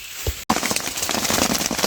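Heavy rain pours down on a carp-fishing spot where anglers shelter in a small hut; after a brief pause the downpour comes through as a dense, loud, continuous patter with crackly drops hitting surfaces.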